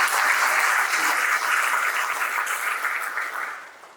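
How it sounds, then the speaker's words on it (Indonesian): An audience at an inspirational corporate talk about Hasnur Group gives a burst of dense clapping that starts full and fades out over about four seconds. "Izin untuk kita beri aplaus."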